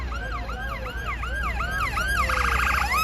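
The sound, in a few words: London Ambulance Service ambulance siren passing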